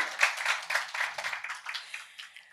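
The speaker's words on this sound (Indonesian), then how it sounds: "Tepuk tangan sekali lagi untuk kita semua." Scattered applause from a small audience at an Indonesian community dialogue on developing the capacity of adherents of indigenous faiths, a few hands clapping unevenly and fading toward the end of the brief burst.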